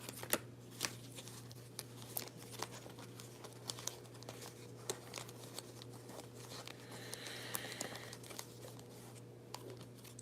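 Tarot cards being shuffled close by, a run of soft papery riffles and light snaps against a low steady hum.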